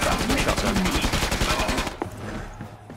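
Rapid automatic gunfire from the video game Killing Floor 2 rattles loudly in a dense burst for about two seconds, then cuts off, leaving quieter game sounds.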